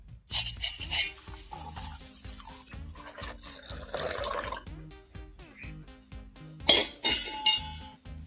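A spoon stirs hot water with citric acid in a metal vessel to make a cleaning liquid for copper and brass, producing repeated close clinks and scrapes in an uneven rhythm.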